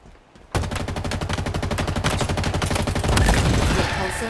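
Rapid automatic weapon fire in Halo Infinite during a team deathmatch fiesta match, a steady stream of close, loud shots that swells heavier toward the end.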